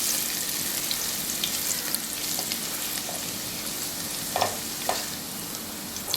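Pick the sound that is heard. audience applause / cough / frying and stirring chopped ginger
frying and stirring chopped ginger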